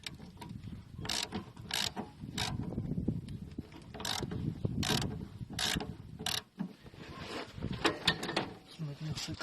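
A ratchet wrench tightens bolts on a Land Rover Defender's rear suspension radius arm bushes, giving repeated sharp bursts of rapid clicking between brief pauses, close up, with mechanical clanks in the background.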